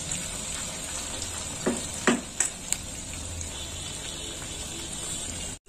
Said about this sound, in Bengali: একদম মুচমুচে ভাজা হচ্ছে